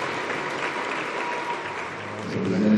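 A crowd applauds steadily at a women's water polo match between Scotland and Wales at the Commonwealth Water Polo Championships, the clapping a dense, even wash that swells slightly at the end.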